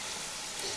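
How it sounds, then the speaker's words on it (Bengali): Spiced fish hitting hot oil in a pan over a low gas flame gives a brief, close, steady sizzle with a faint crackle, heard alone. "আমি একদম গ্যাসের আঁচ কমিয়ে এইভাবে মশলা মেখে মাছটা তেলে দিয়ে দিলাম বন্ধুরা।"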